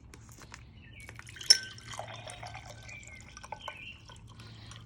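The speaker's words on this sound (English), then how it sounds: "I'm gonna pour it nice into a cup" A drink made from teff trickles and drips into a cup, quietly and close by, with a faint background hum and no talking.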